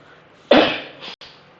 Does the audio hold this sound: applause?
no